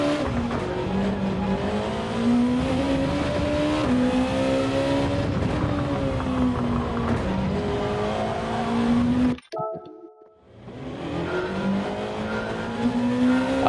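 A Gr.2 race car at Fuji in Gran Turismo 7 screams at high revs with a steady droning engine note that rises and dips through shifts, then cuts out briefly before the roar returns.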